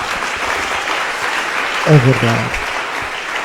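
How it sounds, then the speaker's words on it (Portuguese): An audience applauds in a church setting, a steady wash of clapping running throughout while a voice briefly speaks over it. "Podem me dar uma salva de palmas para ele?"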